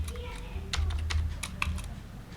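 Fingers tap a short burst of keys on a computer keyboard, entering the number 2000 into a C++ program, a quick cluster of crisp, close clicks with a brief pause between keystrokes.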